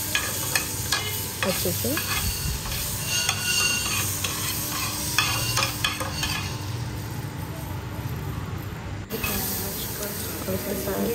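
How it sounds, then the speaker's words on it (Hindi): Butter in a heated pan gives a dense close sizzle and hiss with stirring scrapes throughout, briefly fading before swelling again, while someone speaks a few words over it. "पहले पैन को थोड़ा हीट कर लेंगे, उसके बाद वहाँ पे एक बटर लगा लेंगे"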